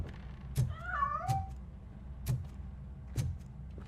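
A video game cat gives a single drawn-out meow, surrounded by several sharp knocks or clicks spaced irregularly over a low steady hum.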